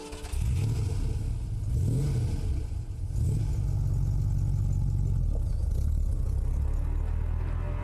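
Vintage BMW 503 convertible engine revving up and settling, a steady loud rumble with two rising surges, carburetor-fed V8-era grand tourer close by, no voices.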